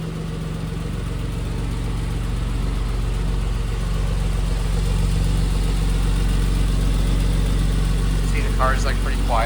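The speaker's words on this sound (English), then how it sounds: "See, the car is like pretty quiet, just" A 2008 Porsche 911 Carrera 2S Cabriolet idles quietly, a steady low engine hum running evenly throughout with no revving, and a faint voice appears briefly near the end.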